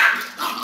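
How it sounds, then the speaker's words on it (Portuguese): A hyperactive dog barks in short, loud bursts while chasing a ball, two close yelps with a brief gap between them and no talking. "Que cachorro doido, meu Deus do céu!"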